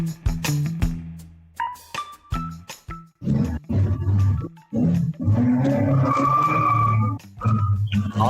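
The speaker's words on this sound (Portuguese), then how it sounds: "tem alguém aí que tá partindo o carro com tudo" A car pulls away hard outside with a loud roar and tire squeal that builds and then fades. It is heard from indoors, where a podcast is being recorded.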